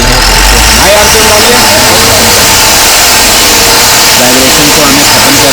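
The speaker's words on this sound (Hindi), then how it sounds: "इंजन की जो आरपीएम है वो ज़्यादा दिख रही है और इसमें वाइब्रेशन भी है" A BS4 motorcycle engine running at high RPM with vibration, a loud steady mechanical drone filling the whole stretch.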